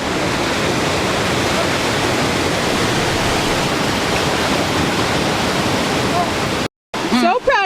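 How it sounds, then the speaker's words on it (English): A waterfall at Middle Falls pours in a loud, steady broadband roar close by, cutting off abruptly near the end before a brief burst of voices. "This is the Middle Falls area."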